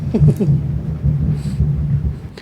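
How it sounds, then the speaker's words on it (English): Thunder rolls in a low, rumbling swell over a couple of seconds, loud and continuous, with faint rain-like hiss above it and no speech. "thunder rolls."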